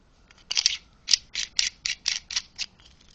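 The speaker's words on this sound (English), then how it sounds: "This is just the end cap that screws off." A laser pointer's end cap is screwed off, giving a series of about nine small scraping ratchet-like clicks in a steady rhythm, close and fairly quiet, with no talking.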